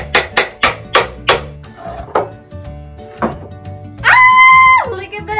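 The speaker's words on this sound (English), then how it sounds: "we're gonna go ahead and take our nails, our finishing nails, and hammer 2 nails per each leg." Finishing nails are hammered into the wooden legs of a small picnic table, a quick run of five sharp blows followed by a few spaced knocks, then a bright rising synthetic swoosh.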